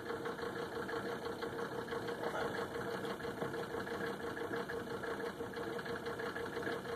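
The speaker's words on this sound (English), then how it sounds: "it's idling a little bit rough because the car has not been running so long" An old car engine idles rough after sitting unused, running on very old fuel; a steady, continuous low rumble with a faint uneven knock holds throughout at moderate level, with no talking.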